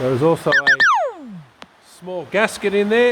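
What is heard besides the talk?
phone beeping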